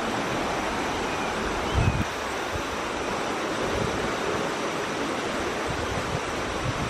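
Floodwater rushing after Hurricane Florence over a submerged trail, a steady broad roar of moving water with some wind buffeting, continuous and fairly near with no voices.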